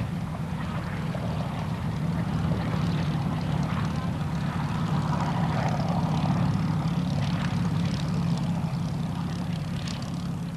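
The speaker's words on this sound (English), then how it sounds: "this aircraft, the Hawker Hind light bomber" A Hawker Hind light bomber's propeller engine drones steadily and evenly throughout, a low continuous hum at moderate distance.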